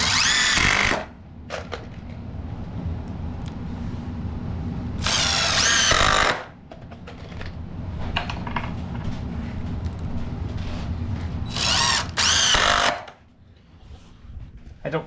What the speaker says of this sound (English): Using 2-inch screws for the attaching the